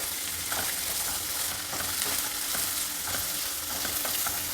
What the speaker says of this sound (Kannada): ಚೆನ್ನಾಗಿ ಫ್ರೈ ಆಗಬೇಕು ಇದು ಒಗ್ಗರಣೆನಲ್ಲಿ